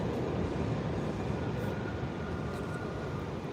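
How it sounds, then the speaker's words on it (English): A steady, loud rumble of a subway train rolling past, continuous broadband roar with no speech. "Up there is the subway."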